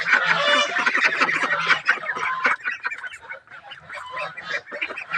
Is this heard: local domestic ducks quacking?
yes